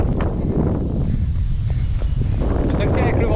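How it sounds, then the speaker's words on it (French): A strong headwind buffets the microphone during an outdoor run, making a steady low roaring rumble with gusty swells while someone talks over it. "là j'ai un méchant vent de face"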